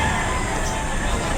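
Chickens and roosters crowd a market behind SM City Lipa, Batangas, making a loud, close, continuous mix of clucking and crowing over a busy background.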